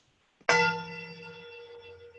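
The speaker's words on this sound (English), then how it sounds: "The bell has rung." A single bell struck once at a club meeting just before the Pledge of Allegiance, ringing out sharp and loud, then sustaining a long, bright, slowly fading tone with clear harmonics.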